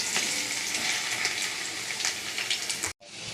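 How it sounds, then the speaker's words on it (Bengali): Paneer and pointed gourd sizzle in a pan, a loud, dense, steady frying hiss with small crackles that continues without talk, briefly cutting out near the end. "দুটো ভাজা হোক।"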